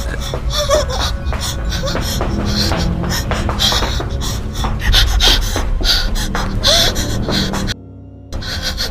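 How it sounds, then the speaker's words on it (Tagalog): A frightened woman fleeing on foot pants heavily and gasps in rapid, ragged breaths, close and continuous, with a brief drop to near silence near the end. "Maririnig ang hingal na hingal nitong paghinga sa kilabot eh."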